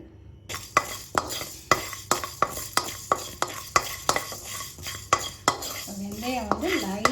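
Fenugreek seeds roasting in a pan on a stove, about fifteen rhythmic scraping and clinking stirs of a metal spoon over a soft sizzle, close and regular, with a brief warbling tone near the end.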